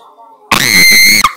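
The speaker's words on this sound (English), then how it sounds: "I don't want you to scream." A child lets out a single loud, shrill scream lasting under a second, cutting off abruptly after quiet talk.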